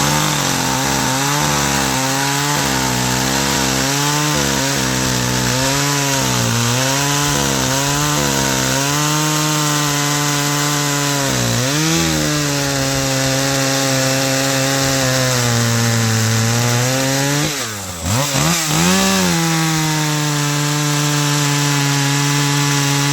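Husqvarna 41cc chainsaw cutting hardwood, loud and close, the engine repeatedly revving and dropping in short bursts before settling into a long sustained cut with brief dips in pitch.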